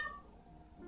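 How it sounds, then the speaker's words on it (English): A pet cat lets out a brief, faint meow, heard alone at low volume. "Your cat is making such a good noise."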